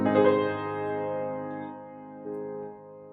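Solo piano plays the opening of Chopin's Nocturne Op. 32 No. 2, a few soft sustained chords ringing close by in a quiet room, with no voices.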